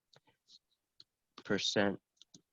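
Marker tapping and scratching against a board in short sparse clicks, quiet and close, with a brief stretch of speech in the middle.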